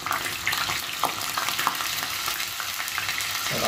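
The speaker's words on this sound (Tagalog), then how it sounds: "Medyo mainit ng ating mantika. Lalagyan natin itong tofu natin." Tofu frying in hot oil in a home kitchen, a steady close crackling sizzle with scattered sharper pops and occasional clinks of utensils, no voices.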